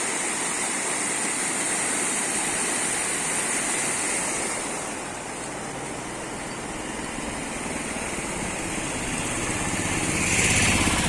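After heavy August rain, the Rupen River rushes beneath a road bridge between Bahucharaji and Harij in a steady, full roar of flowing water, with a brief swell near the end and no voices.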